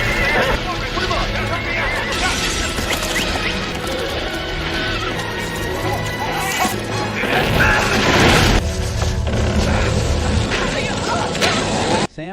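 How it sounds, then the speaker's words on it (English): Horses neigh and whinny loudly inside a burning barn amid crashes, thuds and hoofbeats, with people shouting over the commotion throughout. "Mookie discovers the blaze and alerts Sam, allowing him to arrive in time to save the horses"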